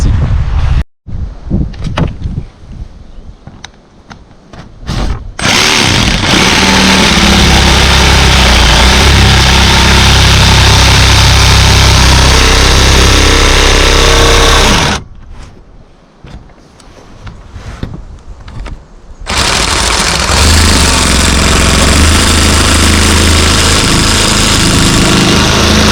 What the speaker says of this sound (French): on attaque avec ma superbe scie sauteuse